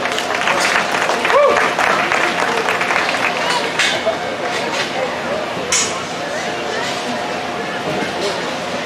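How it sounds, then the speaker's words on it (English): Moderate applause from spectators at a livestock swine show, an even rattle of clapping lasting several seconds with some talk in the room. "Go ahead and give them a round of applause"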